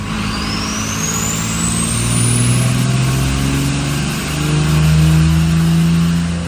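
A diesel truck engine with a VP44 injection pump and turbo runs hard under a full pull at high boost, a loud steady roar with a rising turbo whine and the pitch climbing, heard up close with no talking.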